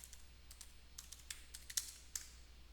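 Quiet, close keystrokes on a computer keyboard as a command is typed into a command prompt, a scattered run of soft clicks with a few sharper taps.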